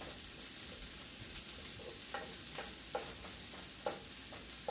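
Onions fry in a pan over high heat, a constant low hiss with soft, irregular stirring scrapes and taps running through it, steady and fairly quiet throughout.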